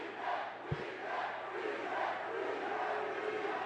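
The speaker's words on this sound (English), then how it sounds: "Do you hear this fucking crowd?" A loud arena crowd chants steadily at a Juggalo Championship Wrestling show in Farmington, New Mexico, with one brief thump early on.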